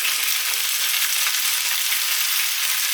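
Marinated chicken, with everything from the marinade bowl, fries in hot oil in a pan for an orange chicken stir fry, giving a loud, dense, steady sizzle that runs unbroken throughout.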